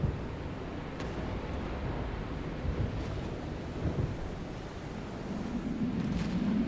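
A continuous rush of wind blows across open water in the sailing video game FAR: Changing Tides, a broad steady roar with gentle swells and no voices.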